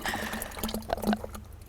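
Water and cow dung poured into a biogas digester make a wet, trickling, splashing flow with small drips and gurgles, steady and close by, with no voices.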